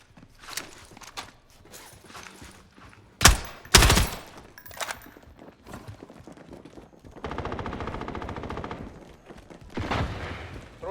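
Gunfire bursts in Call of Duty Warzone, with loud sharp shots near the middle and rattling automatic fire toward the end, mixed with other game effects and a gaming laptop's sound.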